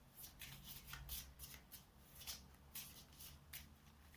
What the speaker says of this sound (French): Mélangez votre main avec votre deck, ensuite piochez 6 cartes.